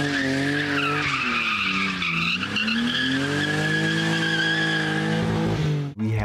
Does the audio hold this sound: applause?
no